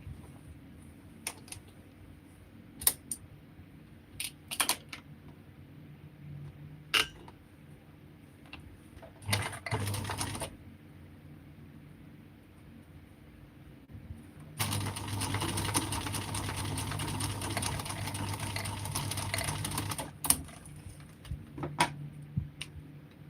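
A sewing machine stitches a garment at the waistband with gray thread: a short one-second burst, then a steady run of about five seconds, close and fairly loud, with scattered clicks and taps from handling between runs.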